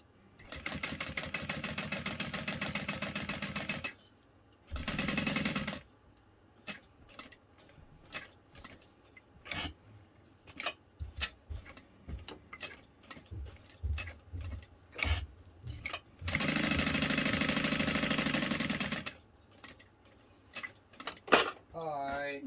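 A sewing machine top stitching a fabric bag runs in several sustained whirring bursts, some short and some long, with clicks and handling noises in between.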